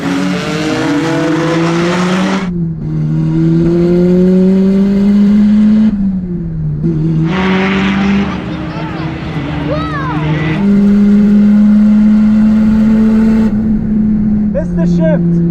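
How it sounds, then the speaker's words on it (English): A Mazda Miata and a Mitsubishi 3000GT racing, a loud engine howl rising through the revs in repeated pulls separated by brief gear-shift dips, with someone talking over the drone. "I always wanted to race it against the Miata when I owned it, so now we can finally make it happen."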